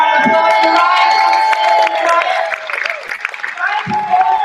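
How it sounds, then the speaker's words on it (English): An audience at an autism talent show applauds and cheers as a performer is introduced, loud close clapping mixed with whoops and high excited voices that swell and dip over a few seconds. "big round of applause for Ryan"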